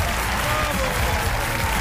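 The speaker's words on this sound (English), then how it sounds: "Everybody give Jim a big round of applause." Loud, dense applause and cheering from the audience at a magic awards show fills the whole moment, a thick continuous wash of clapping from a large crowd.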